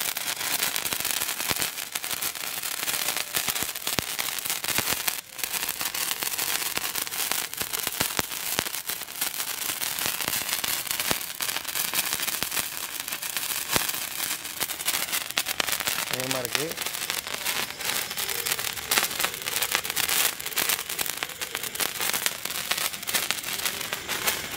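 Sivakasi firecrackers bursting during Diwali testing, a dense nonstop crackle of sharp pops and snaps for the whole stretch, loud and close, with occasional voices underneath.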